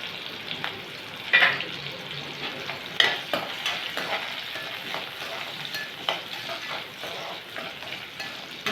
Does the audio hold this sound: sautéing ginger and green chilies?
yes